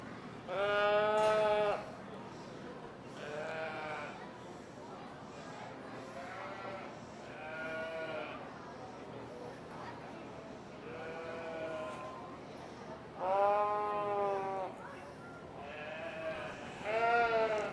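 Sheep bleat repeatedly at a county fair sheep show, loud wavering calls from several animals near and far, separated by a murmuring crowd and indistinct talk.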